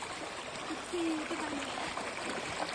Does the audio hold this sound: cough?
no